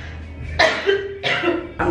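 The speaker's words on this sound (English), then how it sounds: "I'm still coughing like crazy" Three harsh, close coughs in a row, separated by brief pauses.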